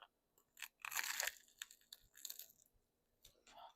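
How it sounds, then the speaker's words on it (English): Someone bites into a crunchy vegan bagel bite pizza with Italian sausage and tomato, giving several close, crisp crunches and chewing sounds in short irregular bursts, quiet otherwise. "we're just going to go bite right into it"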